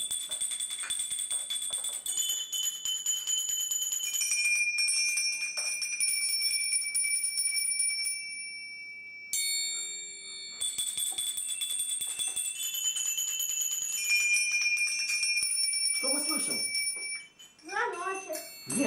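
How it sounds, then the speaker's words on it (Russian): Small tuned bells played by a children's music ensemble at a birthday gathering, ringing bright sustained tones in a simple melody for several seconds, then a short pause and more ringing, with children's voices and talk toward the end. "в тональности у нас выстроены как раз эти колокольчики"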